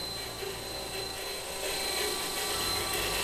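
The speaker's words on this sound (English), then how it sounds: "the HPU is getting noisy and we're seeing fluctuations at the pressure gauge" A Haas ST20 lathe's hydraulic power unit runs noisy at 3,400 RPM and 300 PSI chuck pressure with aerated oil, a steady loud whirring drone with a thin high whine and slight fluctuation, no talk.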